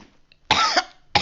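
A person imitates a cough with two short, harsh throaty bursts, the first longer and the second cut off at the end.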